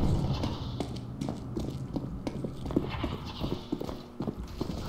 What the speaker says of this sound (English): I could swear I hear footsteps.